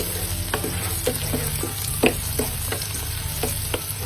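Vegetables for a veg spring roll filling sautéing in a hot pan, a steady close sizzle broken by a run of sharp stirring scrapes and taps at irregular intervals, with no talking.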